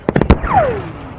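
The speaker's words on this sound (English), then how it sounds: "That's the whistle of incoming rounds." Incoming rounds in combat in Afghanistan: three sharp bursts of gunfire or impacts, then a loud descending whistle that fades away, close and alone without talk.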